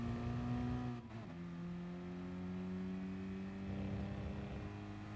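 A Mazda Roadster accelerating around Tsukuba Circuit in Gran Turismo Sport, a steady engine drone rising smoothly in pitch after a brief shift dip near the start, heard from the cockpit without talk.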